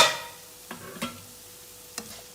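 A spoon stirs dhaniya powder into an egg masala base in a pan, with a few distinct scraping clinks over a low, faint sizzle.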